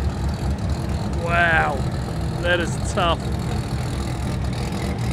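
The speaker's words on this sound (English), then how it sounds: "Is that RX7 from before? Oh, it sounds sick." A Mazda RX7 race car engine rumbles low and steady at Queensland Raceway, heard close and loud under excited talk from onlookers.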